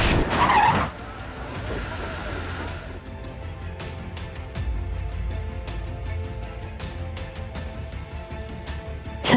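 A car skids to a stop with screeching tires in a film chase, then a car engine runs on with a rising, roaring tone, loud and close, with no voices over it.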